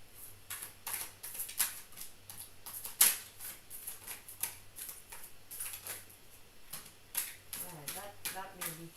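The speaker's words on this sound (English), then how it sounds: "I'm a little awkward in the way that I shuffle" An oversized tarot card deck being shuffled by hand, giving a series of soft, irregular riffling clicks and snaps at close range with a few louder bursts, while a person talks quietly.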